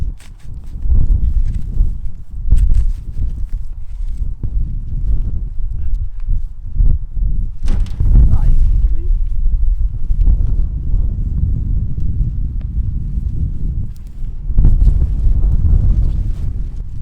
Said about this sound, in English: UK wind is very annoying, I must admit.